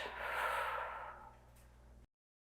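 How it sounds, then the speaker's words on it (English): Slow, steady breath during a yoga class, a long soft exhale that fades gradually over about two seconds before cutting to silence, close and quiet with no talk. "only listen to the sound of your breath"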